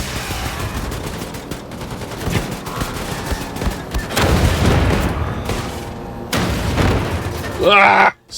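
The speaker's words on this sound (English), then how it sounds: "Stop exploding me! Stop exploding, you cowards." Explosions and gunfire in a video game battle against Nazis, a continuous din of booms and shot bursts with heavier blasts midway and near the end, mixed under voices.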